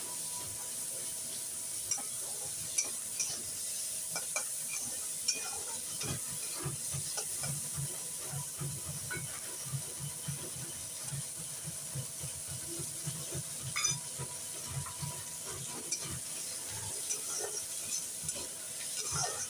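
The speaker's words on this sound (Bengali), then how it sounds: "পেঁয়াজটা একটু ভাজা হয়ে যাক" Onion frying in oil with panch phoron makes a soft, continuous sizzle with faint crackles and light stirring scrapes, fairly quiet and close, with no one talking.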